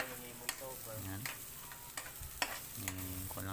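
Garlic sizzles in a hot pan while a utensil stirs it, with soft frying crackle under irregular scrapes and clinks against the pan, close and fairly quiet.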